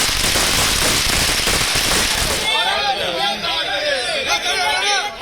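Firecrackers burst at a BJP party office celebration. A dense, loud rapid-fire crackle fills the first half, then gives way to a crowd babbling and voices calling out nearby.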